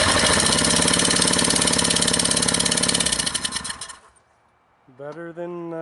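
A motor treated with Orbeez runs loud and steady up close for about three seconds, then sputters and dies into near silence, followed by a voice exclaiming.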